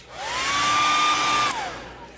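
A hair dryer blows steadily on a freshly painted fishing lure, a wake bait, with a rising whine that holds as a continuous close rush of air, then winds down as it is switched off.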